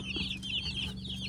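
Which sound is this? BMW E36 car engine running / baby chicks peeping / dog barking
baby chicks peeping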